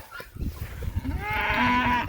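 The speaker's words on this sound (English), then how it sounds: "The one I have to watch out for is my goofy cow, Rip Deer." A cow moos loudly and close by on a farm, one long drawn-out call that swells over its second half, with shuffling and movement among puppies and other animals beforehand.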